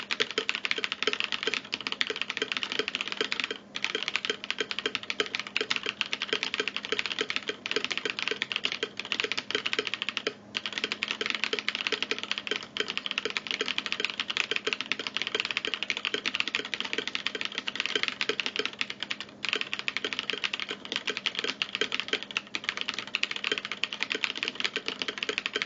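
Fast, continuous clacky keystrokes on a rebuilt KBD67 Lite R3 mechanical keyboard with POM keycaps, close and crisp, with the occasional heavier spacebar or pause over about 25 seconds.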